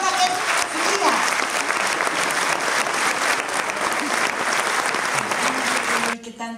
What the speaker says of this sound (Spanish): Un aplauso para la señora que es mía.